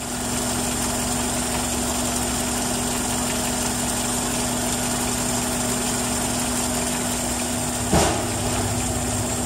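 A car engine idles steadily with a faulty P0136 downstream oxygen sensor, a constant droning hum with a faint tonal whine and one brief knock near the end.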